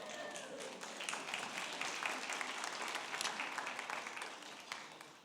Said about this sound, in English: That's the Marines applauding